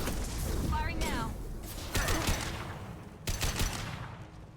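Bursts of rapid automatic gunfire and mechanical clatter during a Mass Effect Legendary Edition suicide mission firefight, several volleys separated by brief lulls, with voices speaking between the shots.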